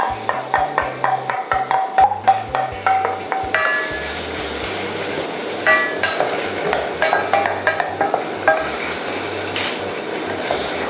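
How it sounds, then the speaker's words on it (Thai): Onion fries in smoking olive oil for a tomato pasta sauce, a steady close sizzle broken by rhythmic clanks and taps of a utensil against the pan as it is stirred. "ลงน้ำมันมะกอกลงมาแล้วนะครับ โอเค ควันมันเริ่มขึ้นเล็กน้อยแล้ว ตอนนี้ผมลง หอมใหญ่ลงไปเลยครับ"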